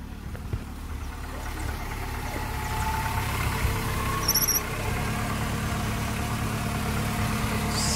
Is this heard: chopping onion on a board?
no